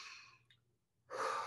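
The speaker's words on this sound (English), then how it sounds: "my number one is to take deep breaths" A single deep breath demonstrated for a child before a shot: a soft inhale, a pause, then a longer, louder exhale, close and alone.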